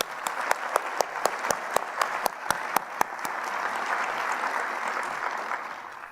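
Applause from a crowd at a medical school graduation ceremony, steady clapping throughout with a few louder, distinct claps standing out near the front in the first half.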